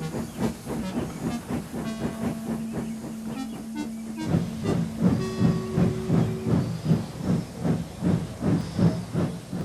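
A steam locomotive hisses steadily with rhythmic chuffing beats throughout, close and continuous, and short whistle-like tones ring briefly over the clanking train noise.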